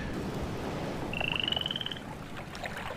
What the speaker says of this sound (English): I don't know where that frog is coming from, but it is a very loud frog